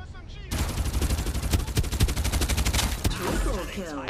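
Rapid automatic gunfire in the battle royale shooter Farlight 84, loud continuous bursts of closely spaced shots for about two and a half seconds, then a sharp final crack and fading echoes.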